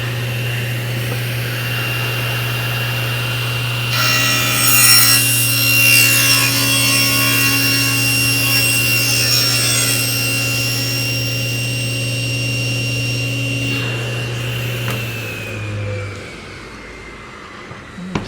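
Table saw ripping a narrow strip from a wood board: a loud steady motor hum, then a harsher cutting rasp for about eleven seconds as the blade goes through the wood, and the motor winding down at the end.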